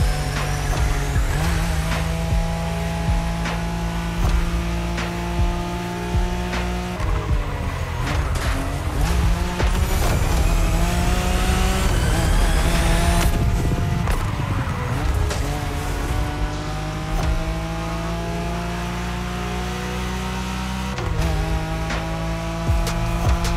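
A Nissan Skyline races flat out on Tokyo's Wangan expressway in The Crew Motorfest, its engine droning loud and steady with shifting harmonic pitch, gear changes and tire squeal throughout, and music or voices faintly underneath.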